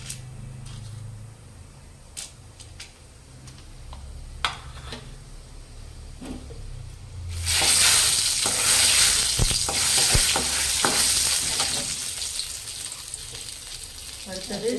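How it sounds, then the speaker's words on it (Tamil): Mustard seeds and chana dal go into hot oil for a Tamil sambar and bitter gourd poriyal meal, the quiet pan suddenly bursting into loud, steady close sizzling and crackling with faint stirring clicks. "கடுகு எண்ணெய் ஊற்றியாச்சு கடுகு அப்புறம் கடலைப்பருப்பு கடலை பருப்பு"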